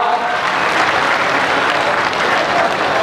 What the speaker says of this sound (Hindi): बाकी सब लोग एक साथ मिल करके सब ताली बजा करके स्वागत करेंगे।